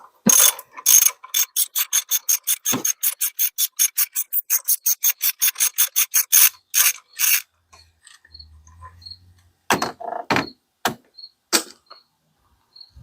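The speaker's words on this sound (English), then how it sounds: "I'm going to remove these 3 15mm bolts" A hand ratchet clicks rapidly and evenly while loosening three 15mm engine mount bolts on a Buick Encore, long bursts of close, crisp pawl clicks followed by a pause and a few shorter, scattered click runs.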